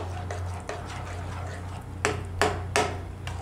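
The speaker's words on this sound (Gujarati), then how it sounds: "તો આ રીતે આપણે દહીંમાં મિક્સ કરી લેવું" Spices being stirred into yogurt in a bowl for a Gujarati dahi papdi gathiya curry, with a low hum running through and a few distinct spoon clinks against the bowl near the end.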